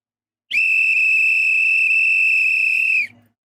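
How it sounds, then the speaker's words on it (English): A referee's whistle ends a France versus Sweden World Cup round-of-32 football match with one long, loud, steady blast of about two and a half seconds, heard alone without talk. "There's the whistle."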